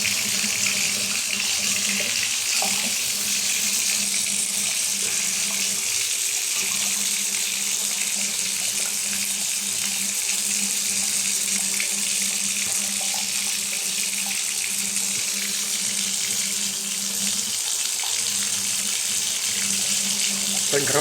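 Cold water running steadily from a tap onto a thermometer, a continuous close hiss and splash that holds evenly throughout with no pauses.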